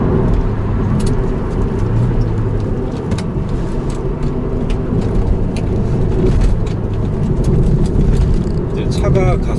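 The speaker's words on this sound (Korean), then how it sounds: "지금 3단에서 한 3000rpm 정도 주행하고 있고요. 자, 여기서 3500 이렇게 가속을 하고 있죠." Manual-transmission car in third gear building revs from about 3000 to 3500 rpm before a clutch shift, a steady mid-pitched engine drone with road noise beneath someone talking throughout.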